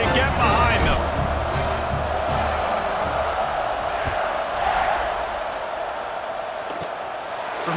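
Stadium crowd in a college football video game roars steadily after a touchdown as the kickoff is set, a dense, sustained cheer filling the whole stretch and easing slightly toward the end.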